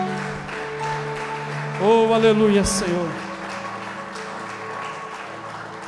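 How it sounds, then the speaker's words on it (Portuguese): A church congregation applauding during an evening celebration service at ICB Curitiba, steady clapping that swells briefly and carries on under someone speaking and praising over it. "aplaudir ao Senhor Jesus nessa noite."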